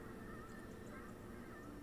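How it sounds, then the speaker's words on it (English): Geese honking as they fly off in the video game Ori and the Will of the Wisps, faint calls over a steady dense ambient game soundscape, no talk. "That little geese flying away."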